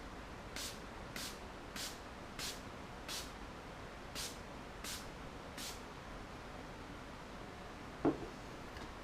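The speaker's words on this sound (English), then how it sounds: "Now I'm going to set my face with the setting spray." About eight short hissing sprays from a makeup setting spray pump bottle, misted onto a face, come in a quick, steady rhythm, followed by a faint click in an otherwise quiet space.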